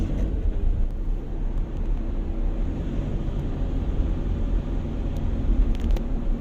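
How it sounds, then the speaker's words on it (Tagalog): An airplane passes overhead at Venice Grand Canal Mall in BGC, Taguig, heard as a steady, loud, low rumble that fills the whole stretch with faint higher ticks near the end. "May aeroplano."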